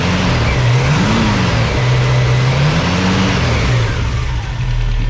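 A 1965 Ford Mustang engine running just after its first start, with a carburetor needing cleaning: a loud, close, steady idle with a wavering pitch that rises and falls slightly.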